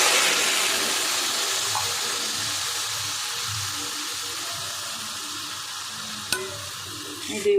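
A bowl of water poured into hot fried rice for zarda pulao makes a loud rushing hiss that gradually fades, with a faint clink of the bowl near the end.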